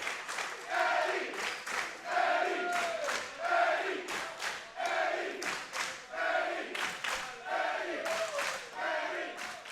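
A pro wrestling crowd cheers and chants for Eddy McQueen, a loud, sustained roar with rhythmic surges and shouts that rise and fall across the arena.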